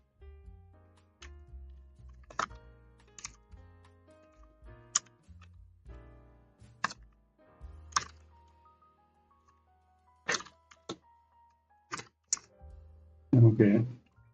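Keys on a computer keyboard clack sparsely while someone types, the clicks isolated and uneven with pauses, ending in a brief louder rustle.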